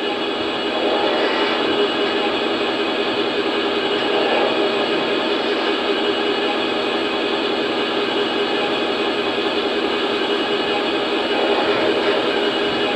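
An SD40-2 model locomotive runs with a steady, continuous engine drone that holds fairly loud and even throughout, with its pitch and intensity rising slightly as the throttle is pushed up.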